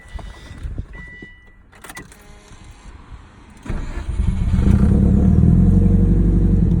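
A 2004 Subaru WRX with a swapped JDM STi engine and Kelford 282 cams sits quiet with a few faint clicks, then cranks and catches about halfway through, settling into a loud, rumbling idle.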